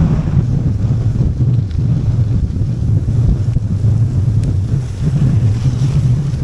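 Loud, continuous headwind buffeting the microphone while cycling, with a deep rumbling roar, steady throughout as if moving at speed outdoors.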